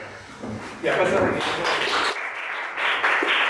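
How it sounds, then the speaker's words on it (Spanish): Applause from a conference audience rises after about a second into a dense, steady wash of clapping, with a voice talking over it. "Eso, fuerte el aplauso, fuerte el aplauso"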